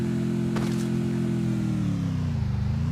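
A video game car engine drones steadily while driving, its pitch sagging slightly and then wavering near the end, with a brief hiss early on and no talking.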